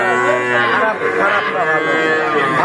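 A cow moos loudly and close by at a rural livestock market, one long, drawn-out low call that fills the whole moment.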